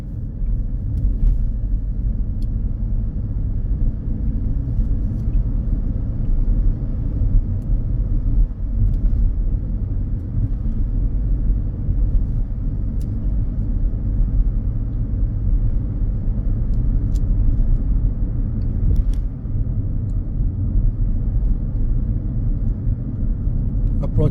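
A car drives along a road on a driving test route in Huddersfield, a steady low engine and road rumble running unbroken throughout, close and fairly loud, with no change in pace.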